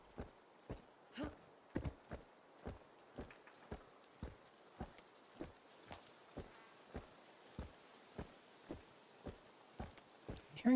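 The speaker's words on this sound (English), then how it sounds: "Hearing footsteps behind me?" Footsteps approach from behind the player during a solo-versus-trio shooter match, landing in a steady, evenly spaced rhythm of about twenty soft thuds. They are moderately faint and play alone, with no talk.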